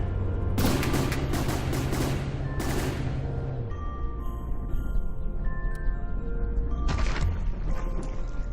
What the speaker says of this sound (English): Explosion on the side,